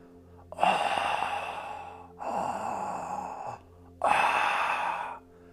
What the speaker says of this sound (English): Ujjayi is the victorious breath, ocean breathing, the Darth Vader breath